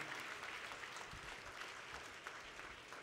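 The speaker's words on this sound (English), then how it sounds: "Everybody, let's give a round of applause" Steady applause fills a hall at a BNI national conference after a guest is thanked, faint and distant, a continuous even wash of clapping with no voices standing out.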